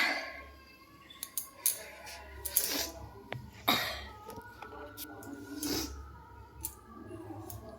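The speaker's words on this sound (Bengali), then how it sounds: "আমি সবজি কাটছি" Vegetables being cut by hand at home, giving irregular sharp clicks and chopping taps scattered through the clip, with someone talking and background household noise in between.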